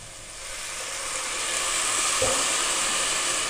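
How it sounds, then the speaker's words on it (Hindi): Vegetables fried in a pan for macaroni soup give a steady hiss and sizzle that grows slightly louder, alone with no talk. "इसको मैं अच्छे से फ्राई करती हूँ।"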